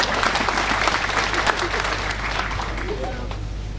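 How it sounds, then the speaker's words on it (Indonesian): An audience claps enthusiastically at the 2013 inauguration of the Sorong police headquarters building, a loud, dense burst of applause that gradually eases, with voices talking through it. "Boleh kita berikan aplaus tepuk tangan yang meriah."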